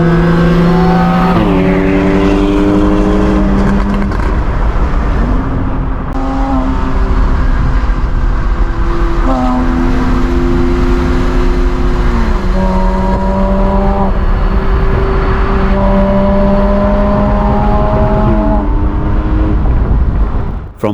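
A 2014 Porsche Boxster 981S flat-six engine while driving, loud and close, climbing steadily in pitch through each gear, then dropping sharply at several upshifts across a sustained run.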